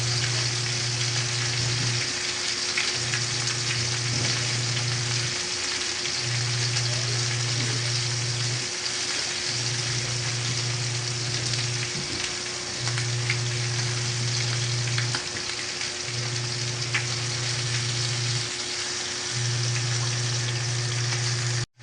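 Fish frying in a pan gives off a steady, dense sizzle that crackles without pause from start to finish. A low hum pulses on and off underneath it in regular bursts.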